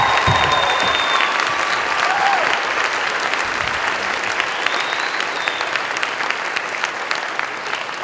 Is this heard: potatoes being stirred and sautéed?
no